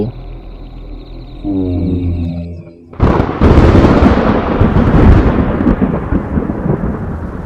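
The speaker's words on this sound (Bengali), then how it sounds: "এক কান ফাটানো বজ্রাঘাতের শব্দ হলো" A sudden, loud rumbling crash breaks in partway through, following quieter tonal sounds, and the heavy roar sustains to the end, like a close thunderclap.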